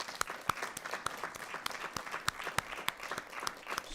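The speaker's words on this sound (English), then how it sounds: "So I do think they do deserve a tremendous round of applause and appreciation for the work they did" A small school board meeting audience gives a round of applause for a redistricting committee: sparse, distinct claps at a moderate pace, fairly faint and without talk.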